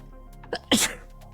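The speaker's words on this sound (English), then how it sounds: "Oh, I'm going to sneeze again" A single sharp sneeze bursts out close by, preceded by a quick intake of breath.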